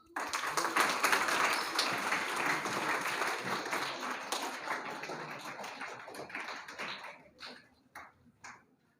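Applause at a school annual award ceremony in honour of the principal, a dense, steady clapping crowd that fills the hall and then thins out into a few last scattered claps.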